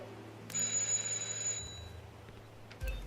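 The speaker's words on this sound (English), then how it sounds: "just ring the doorbell" A doorbell rings in the video game Hitman 2, a bright sustained ringing tone for about a second over a low ambient hum, followed by a faint thump and soft room noise.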